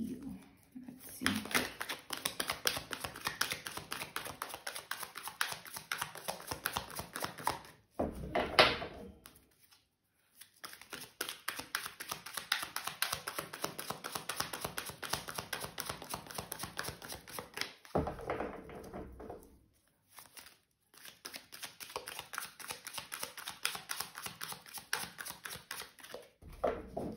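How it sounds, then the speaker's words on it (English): Tarot cards shuffled by hand in long bursts of dense riffling and rustling, broken by a few short pauses, fairly close and quiet. "I was shuffling the cards"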